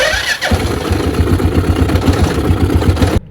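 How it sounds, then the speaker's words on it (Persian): A Honda car engine cranks and catches, then settles into a steady rumbling idle, close and loud, before cutting off abruptly. "الان موتور رو استارت میزنیم"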